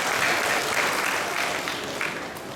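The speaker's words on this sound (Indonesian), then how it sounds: "Tepuk tangan semua." A crowd at a regency anniversary ceremony in South OKU applauds steadily, a dense wash of clapping from a large audience with no speech over it.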